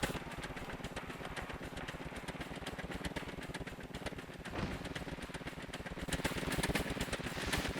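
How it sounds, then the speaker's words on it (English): A player-built car's engines run in the sandbox video game Scrap Mechanic, giving a steady, loud, rapidly pulsing motor drone that holds throughout, with a brief rise near the middle and a slight swell toward the end. "Let's try turning on the engines."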